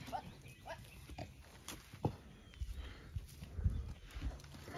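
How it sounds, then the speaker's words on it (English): A horse on a farm with piglets nearby, close and fairly quiet, giving soft snorts and shuffling thumps of hooves in an irregular rhythm with no talk over it. "This is a greedy horse right here."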